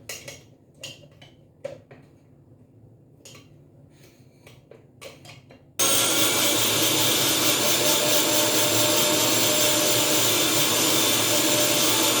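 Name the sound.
mixer grinding raw mango masala paste with chili and water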